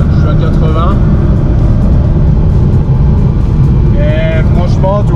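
A car engine hums steadily in sixth gear at about 80 km/h, a loud continuous road drone with faint whining tones, while someone talks over it.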